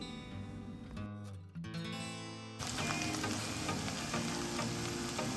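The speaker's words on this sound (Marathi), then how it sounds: "कांदा छान परतवून झाला की त्यात आपल्याला आलं लसणाची पेस्ट ॲड करायची आहे" Onion frying in a pan as ginger-garlic paste is stirred in, a steady loud sizzle with scraping stirs, jumping louder partway through when the paste hits the hot oil; no talking.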